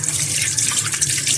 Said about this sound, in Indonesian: Cuci tangan dulu.